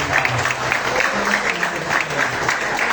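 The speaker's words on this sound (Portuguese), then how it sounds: "Exalte o Senhor com as palmas." A church congregation claps together in steady rhythm, a dense, loud wash of many hands pulsing evenly, with voices blended into the mix.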